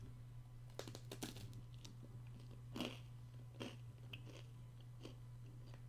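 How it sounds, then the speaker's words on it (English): Bread that is crunchy and crumbly like a crouton being chewed close up, a series of soft crisp bites and crunches over a steady low hum, with no talking. "Jesus, this bread's like"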